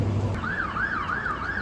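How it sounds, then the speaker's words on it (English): An emergency vehicle siren on a London street wails up and down in steady repeating sweeps over a constant hum of street traffic. "There's always a siren going on somewhere."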